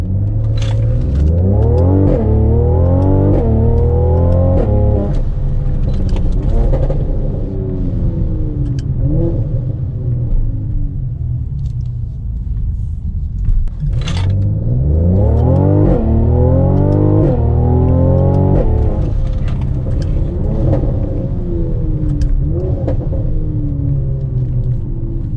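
Mercedes-AMG C43 in Sport Plus with traction control off and manual mode, accelerating hard through a 0-60 run, heard from inside as a loud engine roar climbing through the revs with gear shifts, done twice in succession.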